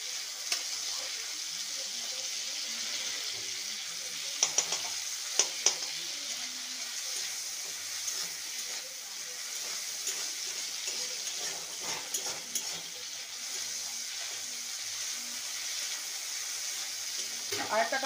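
Potato mixture frying in a pan for homemade aloo bati chochori, with a steady broad sizzle and occasional scraping stirs, close and continuous throughout.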